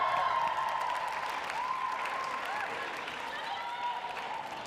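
Crowd applause at a National Student Pride event for a band, steady clapping and cheering, moderately distant, with voices and a sustained tone running over it throughout.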